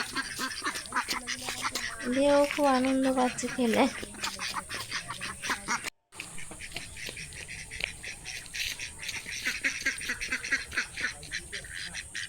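Ducks quack in a village setting while a child runs and plays among them, with several honking calls in the first half and a person talking over much of the scene.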